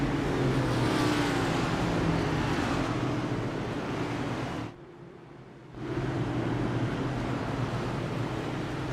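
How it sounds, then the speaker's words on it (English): Race cars on track in a NASCAR-style racing game at Watkins Glen International, a continuous loud roar of engines that cuts out briefly to near silence before resuming. "the cars here already passed the bus stop down the long straight"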